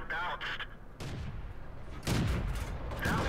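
Tank cannon shots from an M3 Lee in the video game World of Tanks land as a few heavy, booming blasts over a continuous rumbling battle background.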